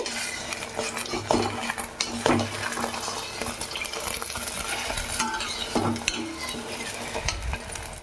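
Egg fried rice being stirred with a ladle in a pan, street style, with a steady sizzle and repeated scraping, clinking ladle strokes close by throughout.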